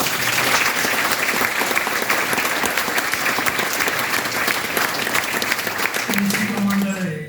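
An audience gives sustained applause at an event. The clapping is dense and steady, and a voice comes in near the end.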